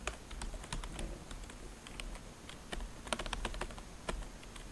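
Names are typed on a computer keyboard in an irregular patter of quiet, close key clicks over a faint room hum, with no talking.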